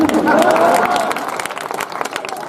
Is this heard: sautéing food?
no